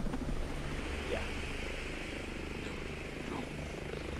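Helicopter in the Ghost Recon Breakpoint video game, a steady rotor drone and engine rumble holding at a constant level throughout, with the faint edges of a voice underneath.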